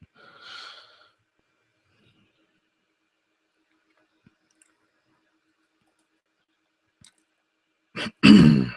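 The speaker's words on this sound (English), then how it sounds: "I had to cough." After a long near-silent stretch at a home live-streamed book reading, a person gives a pair of sharp, close coughs in quick succession at the very end.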